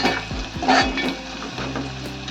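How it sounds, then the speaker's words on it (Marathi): Onion fries in a hot pan, giving a loud close-up sizzle broken by several scraping stirs of a spoon against the metal early on, then settling into a steady crackle. "कांदा भाजून घालायचा. थोडा लाल व्हायला द्यायचा कांदा."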